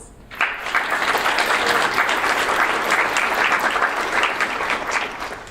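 An audience at a world affairs institute gives a round of applause for educators, a sudden onset of dense, even clapping that holds steady and tapers slightly at the end, with no talk.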